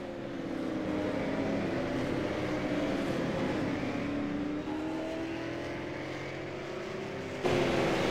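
Race cars roaring down the back stretch at Martinsville Speedway during a MIRL race, layered engine drones rising and shifting in pitch as several cars pass, loud and continuous, with a sudden change near the end.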